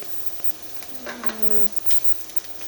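Cut-up breakfast sausage hits a hot pan, producing a soft, close sizzle that swells briefly as it goes in, with a few faint scrapes and taps, alone without speech.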